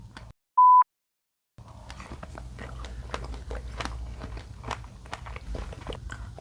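A juicy strawberry is bitten and chewed close to the mic, with a burst of wet crunching and squishing that runs steadily after a short beep and a moment of silence.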